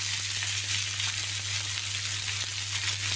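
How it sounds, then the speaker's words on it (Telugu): Young tamarind leaves sautéing in a pan, giving a steady, even sizzle close by with a constant hiss and a low hum, no talking. "ఈ చింత చిగురు తీసుకుని కొద్దిగా మగ్గించుకోవాలి"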